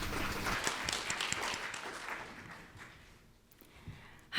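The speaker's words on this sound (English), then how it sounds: "Let's greet her with a big round of applause." Audience applause at an asset management forum in Tokyo, a broad wash of clapping that is fairly steady at first, then thins and fades before a sudden loud burst at the very end.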